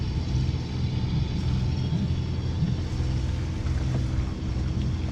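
Steady low engine drone and rumble aboard the sailboat La Badine motoring off Cavalaire, a continuous hum that holds at an even level throughout with no talk.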